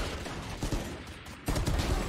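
Shotgun blasts in the tactical shooter Valorant ring out as two bursts of gunfire, one short crack near the start and a louder, longer volley in the second half, with a busy game mix underneath and no talk.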